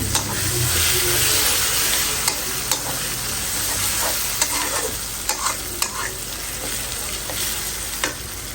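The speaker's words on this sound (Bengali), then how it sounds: "মশলা কষানো শেষ আমি হলো চিংড়ি মাছ দিয়ে দিচ্ছি" Prawns fry in a spiced masala with a steady, bright sizzle, broken by occasional sharp clicks of stirring in the pan.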